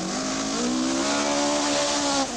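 A rally car at speed on a fast, flowing gravel stage of the 1984 Sanyo Rally New Zealand, its engine holding a loud, steady, slowly rising whine close by for the whole stretch, with no voices.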